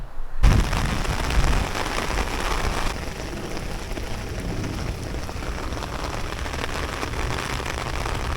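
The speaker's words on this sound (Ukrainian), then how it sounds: "дощ іде, а ми йдемо" Steady rain falls outdoors on a balcony or street in Bayreuth, Bavaria, a dense continuous patter near and fairly loud, with a brief heavier burst near the start and no voices.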